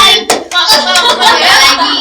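A few sharp hand claps, as if swatting a mosquito, ring out close and loud amid room chatter in a podcast studio, with people talking throughout.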